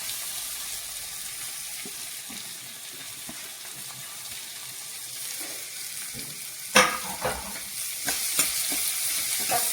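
Finely chopped onion frying in a pan over low heat, a steady soft sizzle with occasional louder scraping stirs toward the end, no voices.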